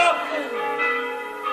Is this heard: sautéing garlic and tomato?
no